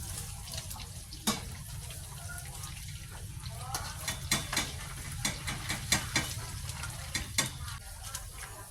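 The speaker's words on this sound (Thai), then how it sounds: "ตอนนี้ผม ทอดมาได้ประมาณ 15 นาทีแล้วครับ" Catfish deep-frying in hot oil, a steady close sizzle with scattered crackles and pops throughout, no talk.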